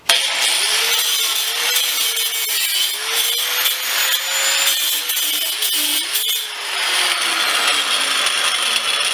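A 4.5-inch angle grinder with a cutoff wheel slices steel, a sustained loud high screech with wavering pitch that dips and recovers as the wheel loads and frees, running nearly unbroken throughout.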